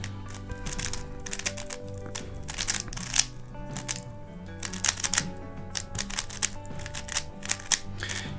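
Quick plastic clicks and clacks come in rapid bursts as a YuXin Little Magic v2 M 3x3 speed cube is twisted repeatedly, close and fairly quiet with brief pauses between runs.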